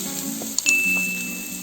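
Marinated prawns hit a hot pan for a prawn and brinjal biryani, setting off a steady, close sizzle with a light clink of a utensil partway through.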